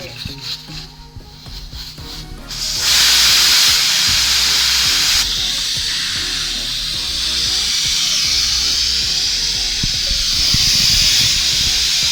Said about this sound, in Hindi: अब मैं कुकर का प्रेशर खोलूँगी